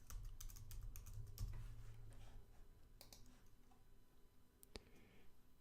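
Fingers type on a computer keyboard during a Windows setup for Linux remote access, a quick burst of key clicks at first, then sparser separate taps and a final sharp keystroke, close and fairly quiet.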